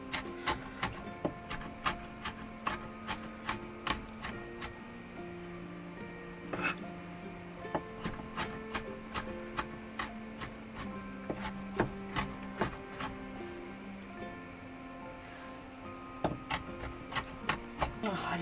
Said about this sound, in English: I'm going to chop all of my ginger now